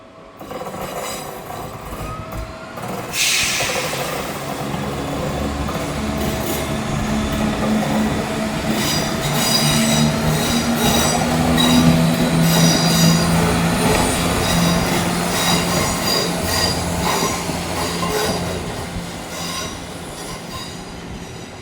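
Northern train pulling into York Station, a loud, rising rumble of wheels and carriages with high metallic squeals of wheels on rails, building over about twenty seconds, close by and with no talk.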